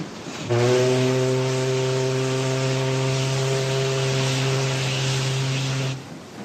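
A steam-powered riverboat horn gives one long, loud, steady blast lasting several seconds, rich and low-pitched with a breathy hiss, and then cuts off.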